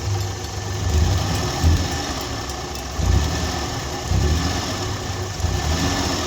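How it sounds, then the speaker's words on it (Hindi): A Suzuki Mehran engine idles roughly with a steady, uneven low rumble and vibration, a few brief swells in level recorded close up with no voices. "पहले आप इसका इंजन देखें, इंजन ना काफ़ी सारा वाइब्रेट कर रहा है।"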